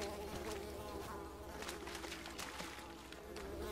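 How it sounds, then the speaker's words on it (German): Swarm of mosquitoes in the video game Unravel, a continuous thin whining buzz with several overlapping insect drones rising and fading close by, no speech. "jetzt kommen hier wieder die ganzen Mücken her"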